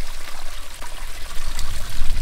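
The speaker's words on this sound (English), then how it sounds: "I thought it'd be quite cool if the water ran off it." Water trickles steadily off a flat stone into an old ditch leading up to reeds, a close, continuous splashing dribble with no voices.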